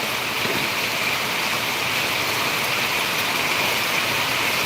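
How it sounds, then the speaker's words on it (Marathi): Heavy monsoon rain pours steadily in Konkan, near Dapoli, a dense continuous hiss without pause and with no voices. "एवढा मुसळधार पाऊस पडतोय कोकणामध्ये"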